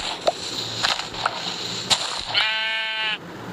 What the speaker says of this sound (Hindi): बकरी आ गई, गिर जाएगी।